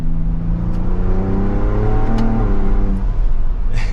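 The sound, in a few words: Ford Bronco Raptor turbo engine under boost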